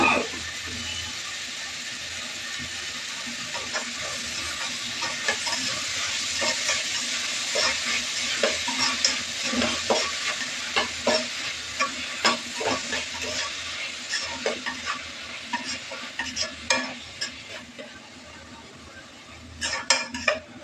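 Onions frying with salt in a pan, a steady close sizzle running throughout with frequent scrapes and clinks of a spoon stirring against the metal, with no voices.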